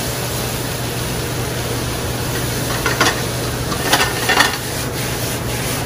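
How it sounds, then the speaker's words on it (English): A portobello mushroom mixture sizzles steadily in a pan while a utensil stirs it, with a few short scraping strokes rising over the constant frying hiss. "while your mixture is continuing to cook, you want to stir it up"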